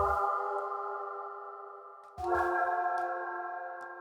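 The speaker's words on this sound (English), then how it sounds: "When pre-delay is set to low, you'll get kind of a flange effect." A sustained synthetic tone washed in swirling, flange-like reverb from a CXM 1978 digital reverb with low pre-delay, briefly broken by a soft transient before the shimmering tone returns and fades slightly.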